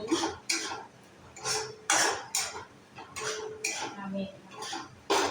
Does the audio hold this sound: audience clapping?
no